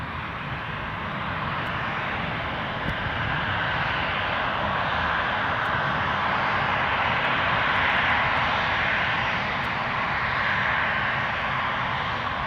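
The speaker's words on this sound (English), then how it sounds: "see an EasyJet trundling out" An EasyJet airliner taxis out on the apron at Edinburgh Airport, its jet engines giving a broad, steady roar that holds loud and unbroken throughout, with no voices.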